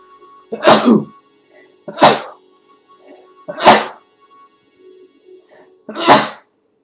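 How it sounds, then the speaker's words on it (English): Four separate sneezes at roughly even spacing, each a sharp loud burst close to the microphone, with a steady faint tone and quiet gaps between them. "I should pause during sneezes"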